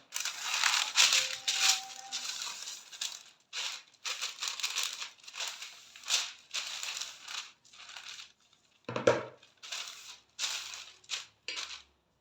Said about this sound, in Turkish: Şimdi diğer yağlı kağıdımı da üzerine alıyorum.